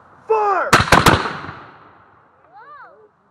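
A musket volley from 17th century Stuart militia: three sharp, loud, close gunshot cracks in quick succession, ringing out and fading, with shouted commands just before and after.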